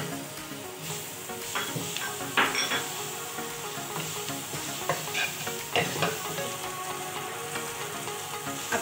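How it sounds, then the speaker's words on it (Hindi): Carrot and cabbage fry in a pan for chicken and vegetable fried rice, a steady close sizzle with scraping stirs and occasional utensil clinks against the pan. "हल्का सा गाजर फ्राई करने के बाद अब हम इसमें कैबेज ऐड कर देंगे।"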